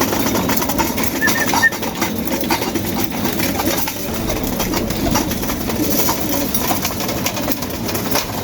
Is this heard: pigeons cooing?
yes